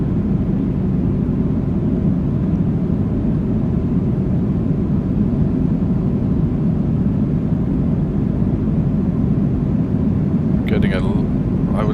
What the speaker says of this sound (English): The engine drone, the howl of the air, the thrust coming out the back.